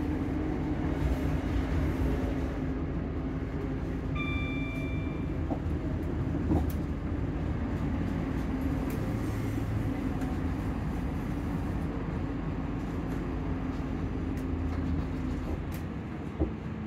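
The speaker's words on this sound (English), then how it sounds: "We are now approaching Gairdrie. Please mind the gap when alighting from this train." Inside a train on the Bathgate to Coatbridge line in Scotland as it approaches a station: a steady, droning rumble of wheels and motor, with a brief electronic tone partway through.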